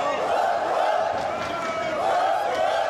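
Wrestling crowd at a women's wrestling event cheering for Chantilly Chella, a dense continuous roar of voices with rising woo-like swells, loud and unbroken throughout.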